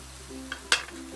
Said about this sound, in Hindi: इसे भून लेते हैं